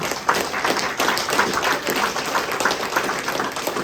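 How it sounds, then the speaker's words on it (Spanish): A church congregation claps along during a Sunday worship service, producing a dense, steady patter of many hands that fills the room evenly for the whole stretch. "Dale palmas para el Señor."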